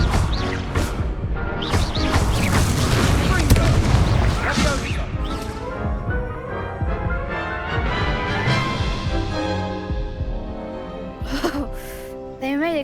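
In Hogwarts Legacy, the Incendio fire spell is cast, giving a heavy booming burst with crashing, roaring layers that fade out, followed by a few sharper magical hits.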